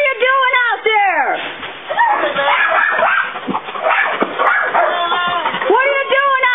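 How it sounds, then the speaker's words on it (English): A beagle barks repeatedly as a watchdog, loud and close, in rapid rising-and-falling bursts that stack across most of the stretch alongside other yelps and voices. "this beagle is a really good watchdog. She sounds off"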